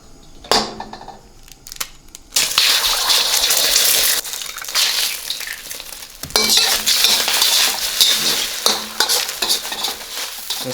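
Eggs frying in hot oil in a smoking-hot wok, a loud steady sizzle bursting in after a couple of clanks, easing briefly near the middle before flaring up again, with no talking.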